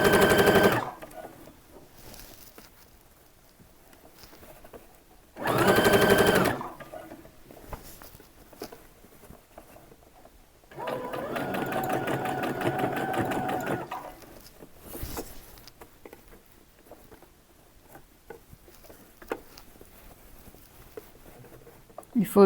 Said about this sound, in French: Si c'est le cas, on fait une couture tout au long.